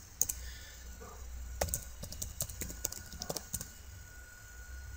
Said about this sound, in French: j'entre le mot de passe que je veux